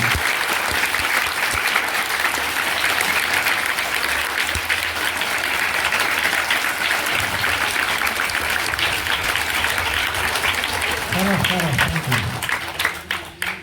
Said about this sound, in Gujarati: તો એમને આપણે ખૂબ ખૂબ તાળીઓથી એમને આવકારી દઈશું